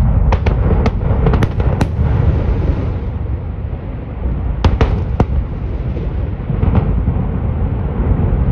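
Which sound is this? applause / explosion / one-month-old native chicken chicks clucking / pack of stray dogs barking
explosion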